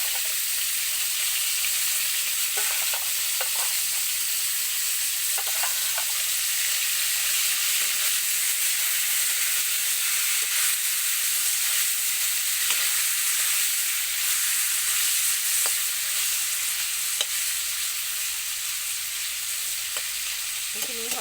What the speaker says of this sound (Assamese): লোকেল মাছখিনি ৰঙা ৰঙাকৈ ভাজি লওঁ।